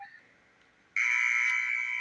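A halftime buzzer sounds in the NBA 2K23 basketball video game during a Lakers matchup: a single steady, loud electronic tone that cuts in abruptly and holds for over a second after a faint lead-in.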